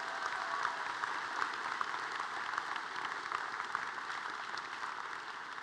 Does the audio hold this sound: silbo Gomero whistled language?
no